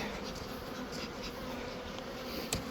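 Steady, dense buzzing of many bees close by during a hive inspection in cold weather, a continuous drone with no voices.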